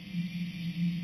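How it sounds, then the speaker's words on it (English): An asteroid signal in the Voices of the Void video game, a low steady electronic hum with a faint wavering drone, brief and quiet. "This is the sound of an asteroid."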